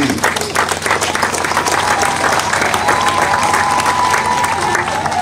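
An audience at a gathering on customary conflict resolution applauds Prince Joseph, dense crowd clapping that runs steadily for over five seconds, with a faint murmur of voices mixed in.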